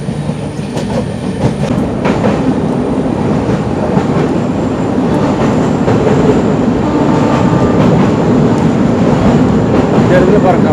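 A passenger train from Chennai to Chengannur rumbles steadily along the rails, loud and continuous with faint rhythmic clicks of wheels on track, heard from on board.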